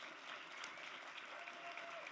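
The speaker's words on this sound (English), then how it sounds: "You can applaud." An audience at a New York City mayoral candidate forum applauds a state senator's introduction, steady moderate clapping that holds evenly throughout.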